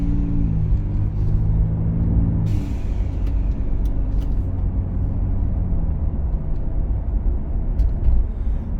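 The 2.7 liter twin turbo V6 of a 2025 Ford Bronco Stroppe Edition hums steadily from inside the cabin, with a lower engine drone early that eases into a constant road rumble, plus a few faint clicks.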